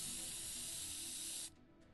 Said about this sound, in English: pulls out a can of red spray paints